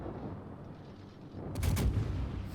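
Naval artillery fires in World of Warships from the Smolensk: a single heavy, booming salvo bursts out after a quiet stretch and rumbles on as it fades, with no voices over it.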